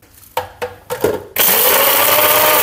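A mixer grinder powders dry-roasted chicken curry spices. A few short motor bursts come first, then it runs loud and steady for over a second.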